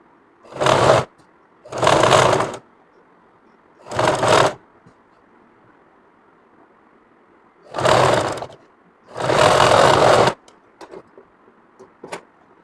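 A sewing machine stitching a kameez runs in five separate bursts of whirring, each about a second long, with quiet pauses between them and faint clicks at the end.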